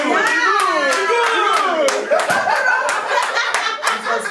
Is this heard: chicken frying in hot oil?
no